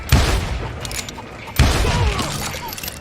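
Gunfire in the Western shooter Call of Juarez: Gunslinger, with two loud, sharp shot bursts about a second and a half apart, each trailing into a rattling decay, with faint game voices and background noise between.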